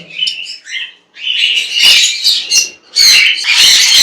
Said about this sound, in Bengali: এটা হলো ছেলে পাখি আর এটা হলো মেয়ে পাখি